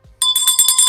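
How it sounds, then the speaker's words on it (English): A bright, metallic bell sound effect rings in rapid repeated strikes after a brief low thump, loud and close, shimmering continuously until the clip ends. "ring-a-ding that bell"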